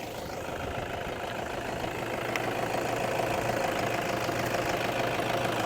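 A 2012 Toyota Vigo Champ Smart Cab 2.5E pickup engine idles, with a steady close mechanical clatter and an even diesel-like rumble throughout, and no talking over it.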